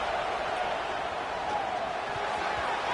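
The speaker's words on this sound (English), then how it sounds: "this crowd is fired up. Listen to this noise here." Roaring football stadium crowd, a dense sustained wall of cheering and noise early in a game, loud and steady throughout with no clear breaks.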